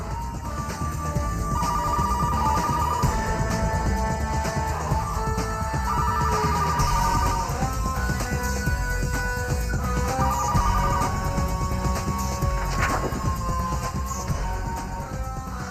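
A phone rings in several spaced bursts over a steady, noisy background, continuing for a while without anyone answering.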